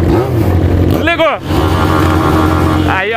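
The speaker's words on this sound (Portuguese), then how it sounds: "a moto que mais berra do Brasil" A Yamaha XJ6 motorcycle with a straight-pipe exhaust roars nearby at night, revving up sharply twice with rising and falling pitch over a constant rumble.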